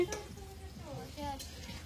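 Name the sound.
capsicum frying in a pan for fried rice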